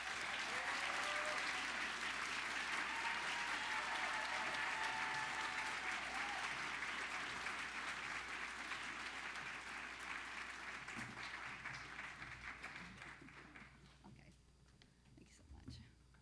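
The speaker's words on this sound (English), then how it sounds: "Please give a warm round of applause to Lori Lynn Turner." Sustained audience applause fills the hall at a National Book Critics Circle awards ceremony, steady and dense before thinning and fading away near the end.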